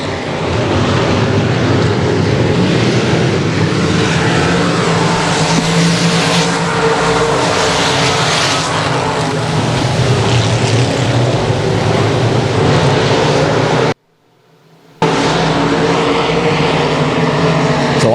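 Dirt-track race cars at Boothill Speedway scream down the back straightaway, a loud continuous engine roar that rises and swells as cars pass, with a brief dropout near the end before the roar resumes.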